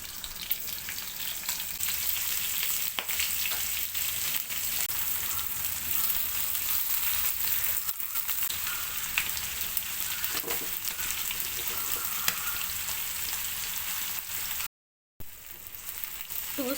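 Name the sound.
prawns frying in oil in a pan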